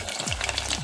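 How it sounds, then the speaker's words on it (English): A salmon fish head fries in a hot pan, giving a close, continuous crackling sizzle with no voices. "while you're frying, because you don't want to cook your fish all of a sudden"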